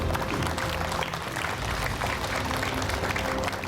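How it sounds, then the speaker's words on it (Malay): Audience applause for the finalists of the Qari Junior stage competition, a dense steady wash of clapping from a crowd that holds at an even level throughout. "Berikan tepukan untuk peserta akhir pentas Kori Junior."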